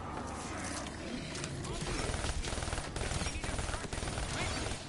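Rapid gunfire bursts in a zombie video game, sharp repeated shots clustering into fast automatic volleys over a loud, busy background of game noise, growing denser toward the end.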